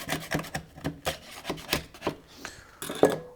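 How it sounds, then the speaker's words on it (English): Putty knife scraping along an old wooden window frame with the glass removed, short separate scrapes close by in an uneven rhythm, each one a brief rasp. "we're going to use a putty knife or paint scraper knife"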